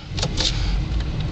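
Interior cabin of a 2000 Chevy Express 1500 Explorer luxury high-top conversion van cruising on the highway: a steady low road rumble and engine drone with soft wind hiss, a faint click near the end, no talk.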